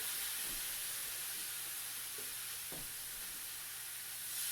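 Steady close sizzling hiss of chuck steaks frying in a hot pan, with a couple of faint clicks and scrapes underneath.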